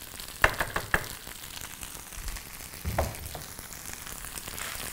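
Spaghetti fries in a pan with melted butter and chicken drippings, giving a soft steady sizzle. A few sharp clicks and scrapes of stirring come through close by, and nobody talks.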